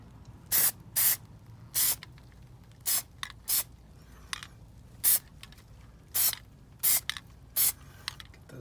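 Plasti Dip spray coating on a Toyota Prius wheel center cap, around the fifth coat: a series of about eleven short, sharp hissing spray bursts with quiet pauses between, close up.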